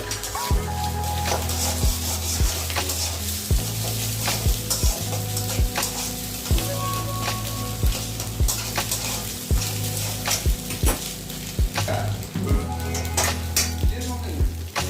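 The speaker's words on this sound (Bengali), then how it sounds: "দিয়ে ডিমটা ভাজা হচ্ছে এক সাইডে," An egg fries in a pan for egg tarka with fenugreek leaves. A constant sizzle plays under repeated, rhythmic spatula scrapes and taps on the pan, close and fairly loud.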